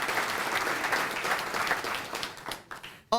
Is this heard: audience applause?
yes